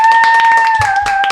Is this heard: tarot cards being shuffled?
no